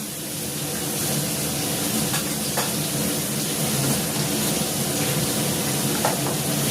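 Beans and potatoes fry in a pan with a steady, dense sizzle that holds at an even level throughout, broken by a few faint clicks of stirring.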